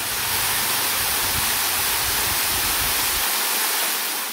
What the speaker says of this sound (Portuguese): A cachoeira tem uma queda d'água curta, com cerca de 9 metros e uma boa área para banho